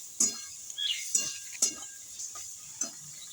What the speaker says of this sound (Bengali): একটু নেড়ে চেড়ে নামিয়ে দেবো।